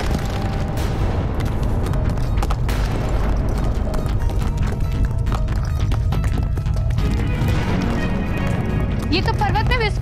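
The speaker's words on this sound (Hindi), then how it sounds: "ये तो पर्वत में विस्फोट हुआ है" A deep, sustained rumbling roar with crashing rock debris from an explosion in a mountain in a TV drama, with a high whistling or squealing sound near the end.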